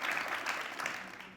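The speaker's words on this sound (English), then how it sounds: "Clap it up." Soft, fairly distant applause from a festival audience, a short steady patter of clapping at low level.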